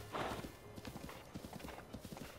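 Horse hooves clip-clop in a quick steady rhythm in Zelda: Breath of the Wild, with a short whinny at the start; the sounds are fairly faint and carry no talk.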